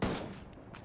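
Gunfire in the tactical shooter Ghost Recon Wildlands, a loud close burst with a sharp attack that rings out and decays over less than a second.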